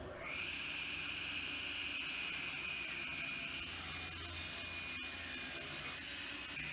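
Saw ripping a wooden board down to width, a steady high whine with a constant drone and no pauses through the cut.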